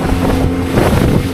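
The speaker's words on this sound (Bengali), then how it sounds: "চলেছি এখন বোটের মধ্যে" A motorboat ride through the Pichavaram mangroves, with a steady engine drone and wind buffeting the microphone throughout, loud and close with no talking.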